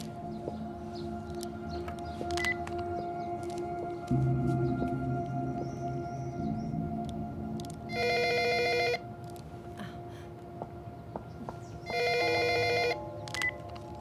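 A telephone rings on an outgoing call, with two bursts of electronic ringing a few seconds apart over a quiet background hum, heard alone with no one speaking.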